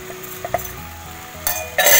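Eggs coated in salt, turmeric, chili powder and garam masala are stirred in a hot pan for egg biryani, with scattered utensil scrapes and a louder sizzling burst toward the end.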